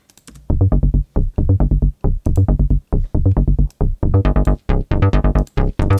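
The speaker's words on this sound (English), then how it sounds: "So a pretty basic sequence right here." A simple Repro-1 synth sequence pulses in short, plucky notes on a steady rhythmic pattern, loud and dry, looping with no voices.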